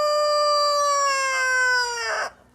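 A rooster crows once in a long, strong, drawn-out call that fades at the end, loud and close, with no talk over it.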